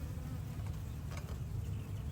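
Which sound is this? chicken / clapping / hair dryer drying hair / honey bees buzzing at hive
honey bees buzzing at hive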